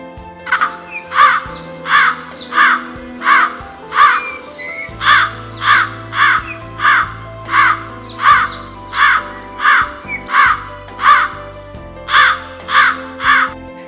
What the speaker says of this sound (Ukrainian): Дивись, яка чорнокрила гава.